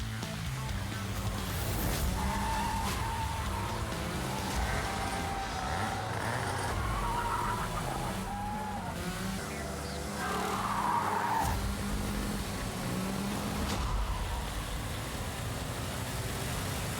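Go-karts racing on a track, engines droning steadily with tire skidding and squealing through the corners, loud and continuous for the whole stretch.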